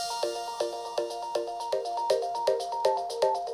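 The song plays through a JBL Charge 6 portable speaker: bright, plucky synth notes in a steady, evenly spaced rhythm at a moderate, clear volume, with no talking.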